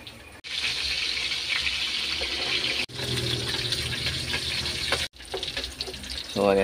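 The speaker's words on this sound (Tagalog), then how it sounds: "So, luto na natin ang ating pinilitong isda." Fish frying in cooking oil gives a continuous close sizzle, broken by a few brief gaps and clatters, with a faint voice near the end.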